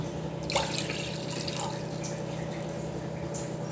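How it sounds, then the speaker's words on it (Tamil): Water poured into a cooking pot for a garlic, onion, pepper and cumin soup, a steady close trickle with a few brighter splashes early on, heard alone without talk. "இப்போ தண்ணி ஊற்றிக்கிடலாம்"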